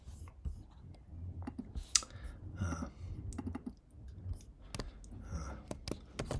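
Scattered clicks of typing on a computer keyboard, close and fairly quiet, entering text into a Mendix slideshow app with light background noise and no speech.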